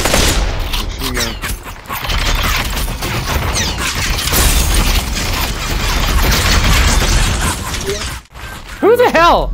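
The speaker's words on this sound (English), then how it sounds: "that dude was shooting with an M60" M60 machine gun fire in the Population One video game, a loud dense fusillade of rapid shots rattling almost continuously, mixed with other gunfire, impacts and mechanical clatter, then a brief pause before more bursts.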